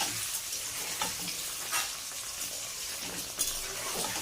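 Food frying in a pan in a home kitchen, a soft continuous sizzle with a few faint utensil scrapes and clinks scattered through it, quiet and without talk.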